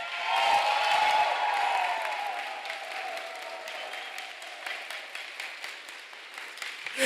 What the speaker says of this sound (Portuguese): prepara para aplaudir